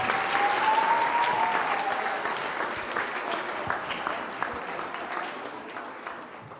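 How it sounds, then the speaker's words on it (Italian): A studio audience at a sports program applauds the girls who were just introduced, a steady, moderately loud burst of clapping that slowly fades over several seconds. "farei un applauso alle ragazze"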